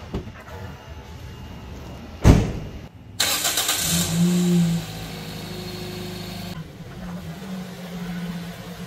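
A 2014 Toyota Vios automatic engine idles steadily and close, with a sharp thump near the start followed by a broadband mechanical burst, then a low constant hum continuing alone.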